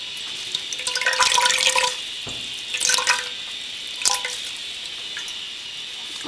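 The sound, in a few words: squeezing merlot wine dye out of yarn, dripping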